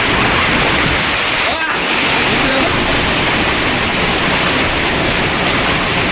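Heavy rain driven by strong wind makes a dense, loud, continuous hiss, with one brief dip in the middle.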